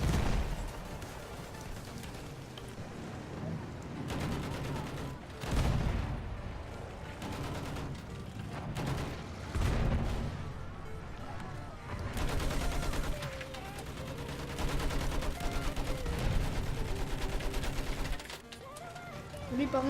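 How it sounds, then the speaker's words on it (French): Gunfire in Battlefield 1 during a multiplayer conquest match: dense, continuous rattling shots and bursts with periodic louder blasts, layered over game noise throughout. "Je me fais tirer dessus par le côté."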